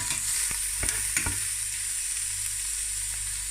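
Onions sauté in olive oil in a pot for spaghetti bolognese, a continuous near sizzle broken by a few sharp stirring knocks early on.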